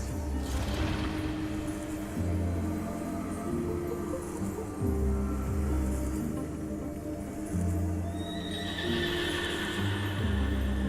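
A horse in the fantasy video game Honkai Star Rail whinnies over steady clip-clop hoofbeats and a low rumbling game score, the neigh rising clearly near the end against a constant mid-level background.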